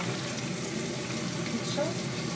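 Meatballs sizzle and spit in a frying pan, a steady crackling fry with soft stirring and faint kitchen noises, while a voice speaks quietly underneath.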